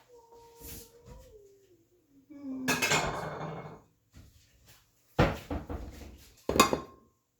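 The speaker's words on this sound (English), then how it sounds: "So let me get a bowl." Clattering kitchen sounds as a bowl is fetched, with a cupboard being handled, ceramic clinks and knocks in short bursts separated by quiet gaps, a faint tonal squeak early on, and no speech.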